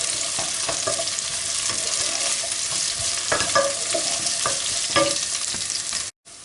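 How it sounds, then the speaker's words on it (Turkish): Peppers, red kapya and long green sivri, frying and being stirred in a pan for Turkish beef kavurma, a steady loud sizzle broken by repeated scraping strokes of a utensil, close up with no talking, ending in a brief cut to silence. "İlk önce bunları kavuruyoruz."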